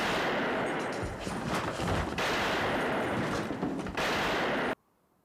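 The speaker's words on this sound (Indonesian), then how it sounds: "warga kota yang mendengar tembakan pun berlarian keluar" Gunfire from the western film High Plains Drifter rings out in loud, rapid bursts, several volleys of shots with brief lulls between them before cutting abruptly to silence.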